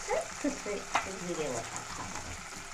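Onion and chili frying in oil for a leafy greens and small fish curry, a steady close sizzle with a few stirring scrapes and clinks, no talk over it.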